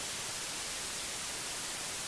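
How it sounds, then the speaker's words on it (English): Plain white noise, an even, unbroken hiss spread across all pitches that stays at a constant moderate level throughout, with no other sounds or voices. "then this is what white noise sounds like."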